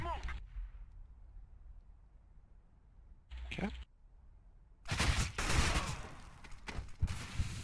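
Counter-Strike style match gunfire: a short burst near 3.5 seconds, then a loud, dense volley of shots from about 5 seconds onward, with quiet game ambience in between.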